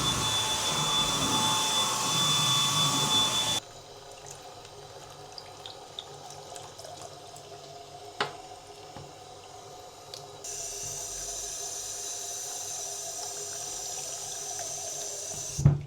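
Tap water runs steadily into a sink while a houseplant is rinsed, a continuous close wash with the flow changing partway through and small clunks of handling.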